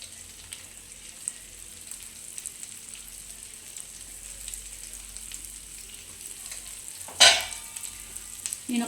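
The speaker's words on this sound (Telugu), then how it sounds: "ఈ అల్లం వెల్లుల్లి పేస్ట్ మొత్తం ఈ చికెన్కి పట్టేటట్టు ఫ్రై చేసుకుందాం." Chicken frying in a pan with ginger garlic paste and salt gives a low, steady sizzle throughout, broken by one louder stirring scrape near the end.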